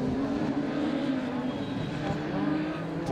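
Onboard a Honda-engined Lotus rallycross car with a sequential gearbox racing at Pembrey, the engine roars loud and close and steady, with tyre noise mixed in.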